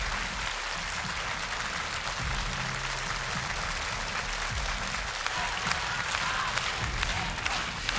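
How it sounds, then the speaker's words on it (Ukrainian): An audience at a live music performance applauds Ukraine's soldiers, including a man honored for a 14-hour battle near Bakhmut, with dense, sustained clapping from a large crowd, steady and fairly loud throughout. "І ці оплески лунають всім воїнам Збройних сил України"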